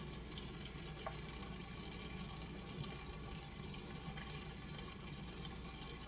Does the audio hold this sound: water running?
yes